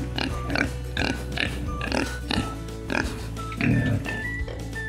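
A pig at a zoo grunts and oinks in a run of loud, close, rhythmic snorts, one after another. A steady low background hum runs underneath.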